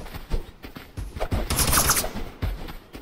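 Scattered gunshots crack out in rapid, uneven bursts during a Totally Accurate Battlegrounds fight, some close and sharp, others lighter, with chaotic clatter in between.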